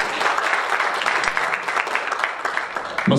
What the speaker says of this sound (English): Clap for room 73.